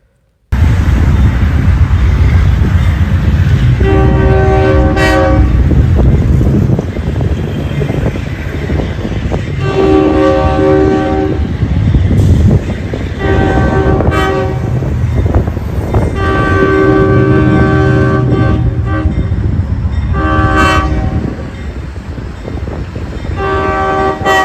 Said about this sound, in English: Yeah, this locomotive got a very nice sounding horn.